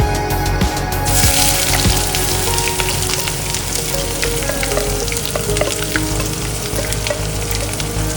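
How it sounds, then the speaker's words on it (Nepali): Chopped onion and fenugreek seeds fry in hot oil, sending up a loud, steady, dense sizzle throughout, with a few brief stirring scrapes near the start and no voices. "जब मेथीको रङ रातो हुन्छ अनि काटेर राखेको प्याज राख्नुहोस्।"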